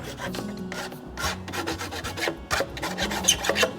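Steady rasping of a file dressing the edge of a homemade herd bumper, repeated back-and-forth strokes with a dry gritty scrape, close and fairly loud, no voices.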